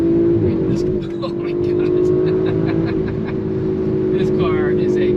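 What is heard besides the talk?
2019 Audi RS5 Sportback accelerating up highway on-ramp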